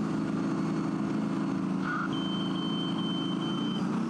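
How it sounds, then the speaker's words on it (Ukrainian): A tank's alarm system, triggered by a laser-beam hit during training maneuvers, sounds a long steady electronic tone over a constant loud engine rumble, preceded by a brief higher chirp. "Так звучить система сигналізації, коли по танку влучає промінь машини супротивника."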